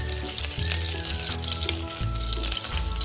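Pork belly stir-frying in a wok with a little oil and slices of fresh ginger, a loud, dense sizzle with scraping and stirring clatter throughout, no one speaking.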